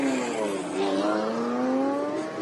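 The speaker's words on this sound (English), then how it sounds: "I think the cars are making enough noise." Ferrari sports cars, an F40 among them, drive past in a parade, their engines loud and close. A steady rising and falling howl is heard with no talk over it.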